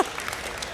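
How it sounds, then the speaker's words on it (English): Brief burst of applause from a group of telethon fundraisers at a children's hospital telethon, dense clapping throughout the short moment. "Guys, give yourselves a round of applause."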